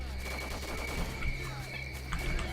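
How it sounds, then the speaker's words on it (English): Enemy gunfire from S.T.A.L.K.E.R.: Call of Pripyat, a sustained fusillade of game shots crackling steadily over a low ambient hum, with louder bursts around the middle and end. "Okay, now they've opened fire and I haven't taken cover."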